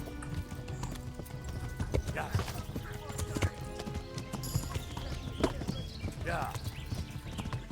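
Horse hooves clip-clop in Kingdom Come: Deliverance as a rhythmic, moderately loud gait. The steps carry on over outdoor game ambience, with someone talking over them.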